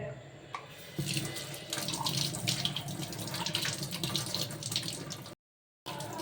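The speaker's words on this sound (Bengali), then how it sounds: "বেসিনে একটু ধুয়ে নেব।" Tap water runs into a sink basin as an ice cream mould is rinsed, giving a steady splashing rush close by that cuts off abruptly near the end before resuming briefly.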